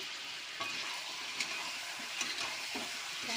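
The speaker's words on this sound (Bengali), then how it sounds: "মশলা আমি একসঙ্গে কষে নেবো" Ground spices, black pepper powder and a little sugar fry with chicken masala in a pan, a soft, even sizzle broken by a few light stirring scrapes, with no voices.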